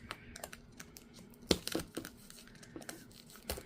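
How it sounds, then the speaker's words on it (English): Thin plastic wrap is pulled and torn off new canvases. Faint, close crinkles and sharp crackling snaps come in uneven bursts, with one louder rip partway through. "Let me get all these plastics off first"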